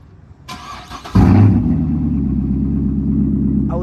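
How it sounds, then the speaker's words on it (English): A Corvette's engine cold-starts: a brief starter crank, then the engine catches with a loud flare and settles into a deep, steady, rumbling idle close by. "Real quick cold start on the vet,"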